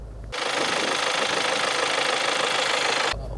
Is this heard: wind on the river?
no